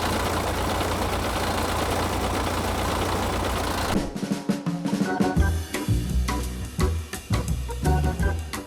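An old tractor engine runs on a farm with a steady heavy rumble, then turns into an uneven, knocking and sputtering chug with irregular bursts, loud and close.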